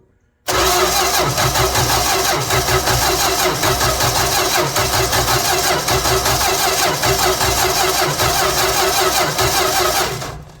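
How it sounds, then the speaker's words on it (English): A 1965 Plymouth Valiant 100 engine cranking and catching, then running steadily at a rough idle, loud and close, continuing for about ten seconds before cutting off. "let's see if a little cranking over with the push button here will bring some fuel up"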